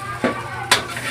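Garlic fried rice (sinangag) being stirred in a hot pan with plenty of garlic, giving two short scraping stirs over a steady low sizzle of frying.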